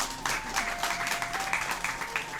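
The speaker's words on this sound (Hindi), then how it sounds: "प्रभु जी के लिए ताली बजाइए।" An audience at a spiritual lecture claps together in a steady burst of applause, dense and even throughout, fairly close and moderately loud.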